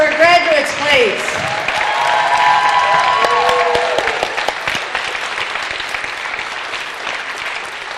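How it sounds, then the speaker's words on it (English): Audience applause for graduates at a Community First graduation ceremony, a dense wash of clapping that fills the room and slowly fades, following a brief moment of a voice and musical tones at the start. "A round of applause for our graduates,"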